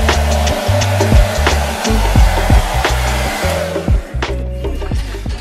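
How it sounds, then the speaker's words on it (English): A hand-held blow dryer runs continuously at close range during a budget kitchen makeover, a loud steady whirring drone with small fluctuations and faint knocks. "We're trying to use a blow dryer to iron them out"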